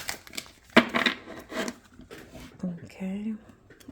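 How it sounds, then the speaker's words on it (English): Tarot cards shuffled by hand in a few quick riffling bursts, papery crinkles and soft slaps close to the mic, ending in faint short whooshes. "I'm going to do 2 more shuffles."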